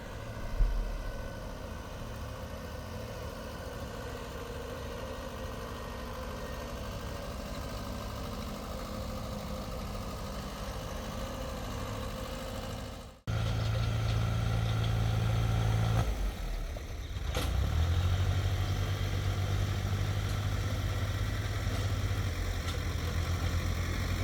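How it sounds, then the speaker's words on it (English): Tractor engines rumble steadily at a constant idle-like drone while smoothing a gravel road, then a sharp cut and a shift to a deeper, louder engine note with a brief dip before settling again; no voices. "who turned up with 2 tractors to smooth out the road and make it look absolutely fantastic"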